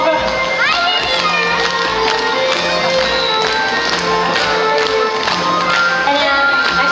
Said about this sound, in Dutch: En dan beginnen we te klappen.